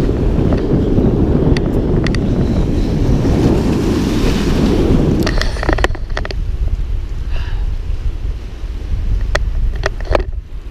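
Surf and ocean waves at a Florida beach with strong wind buffeting the microphone, a steady loud roar for about five seconds that then eases into softer wash with occasional sharp wind knocks.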